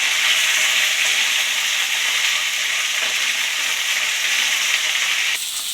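Vegetables including carrot, knol-khol, radish and beans frying in a pan for sambar, a loud, continuous hiss that holds steady throughout and drops slightly just before the end.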